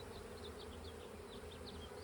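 Honeybees hum steadily over a hive frame during a split made to head off swarming, a dense continuous drone with a few higher buzzing swoops of individual bees passing close, with no talk.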